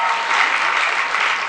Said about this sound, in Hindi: आप तालियां बजाइए प्लीज